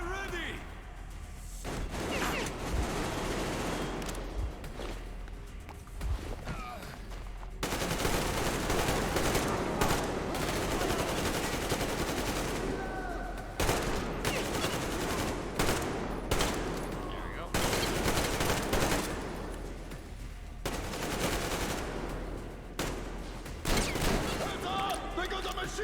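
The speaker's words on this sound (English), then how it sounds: "They got a machine gun!" Machine gun fire rattles in long, loud sustained bursts with short breaks during a battle in the video game Metro Exodus, while voices shout over the shooting.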